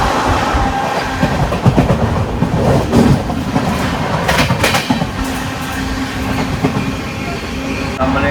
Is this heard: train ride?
yes